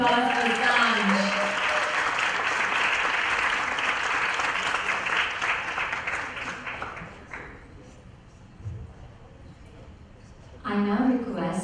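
Audience clapping for Saanj at her Arangetram dance debut, a steady roar of applause through the hall with a speaker's voice over it, dying away before the voice resumes alone.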